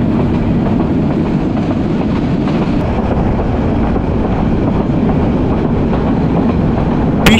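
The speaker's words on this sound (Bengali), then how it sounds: "ট্রেনে ওঠার সাথে সাথেই ট্রেনটা ছেড়ে দিল" A crowded local passenger train rolls along with a loud, steady rumble and continuous wheel and track noise, heard close from on board with heavy wind buffeting throughout.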